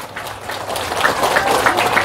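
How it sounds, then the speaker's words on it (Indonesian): Audience applause for Islamic boarding schools at an Indonesian religious gathering, a steady dense wash of many hands clapping that builds slightly and stays continuous throughout. "Maka tepuk tangan untuk pondok pesantren."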